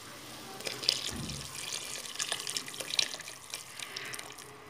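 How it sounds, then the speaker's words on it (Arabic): Water pours into a cooking pot holding tomatoes for a potato stew, a quiet, steady trickle with a few soft splashes and drips. "دوكا ندير الماء هذيك اللي درت لها الطوماطيش مصبره، نديرها في المرميطه ديالي."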